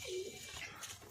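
Giribaj and Madras pigeons kept for sale give a soft, close coo with a brief low tonal note near the start, set against a steady background hum.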